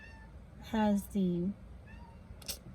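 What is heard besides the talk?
cat meowing, trying to get out the window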